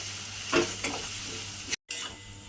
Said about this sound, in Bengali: দিয়ে এবার আদা রসুনটা দিয়ে আমি কিন্তু একটু ভাজা ভাজা করে নেব